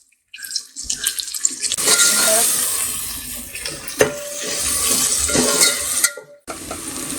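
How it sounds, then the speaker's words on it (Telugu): Coriander, mint and onions cooking in a pan for farm chicken biryani, with a continuous loud sizzle broken by scraping and stirring strokes and a brief pause near the end. "ఇప్పుడు ఇందులో కొత్తిమీర, పుదీనా, ఉల్లిగడ్డలు యాడ్ చేసుకుని ఇవి కూడా కొద్దిగా సాఫ్ట్ అయ్యే వరకు కుక్ అవ్వనివ్వాలన్నమాట."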